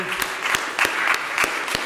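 Audience clapping at a Polish anniversary gathering, a steady dense patter of hands with a few sharper claps, moderately loud and close, with no voices over it.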